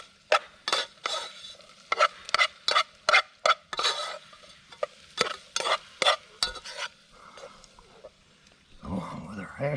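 Sausage going back into a hot pan at a camp cooking setup, with sharp bursts of clattering and scraping over a low sizzle; a pause, then a softer rustle and sizzle near the end.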